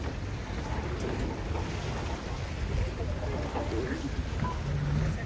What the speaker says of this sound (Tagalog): Sakay pala kami ng bangka, eh.